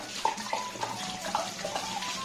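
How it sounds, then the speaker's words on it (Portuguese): Dirty water splashes and trickles out of a hookah vase being emptied during cleaning, a steady nearby pour broken by a few brighter gurgles and drips, with no voices. "pega essa água suja, joga fora"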